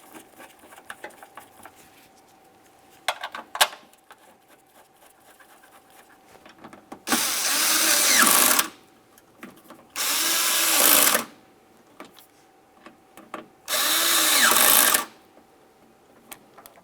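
A power tool drives in the lock actuator mounting bolts on a 2000-2006 Chevrolet Tahoe front door, three loud bursts of whirring about a second or two each, after some faint clicking and handling.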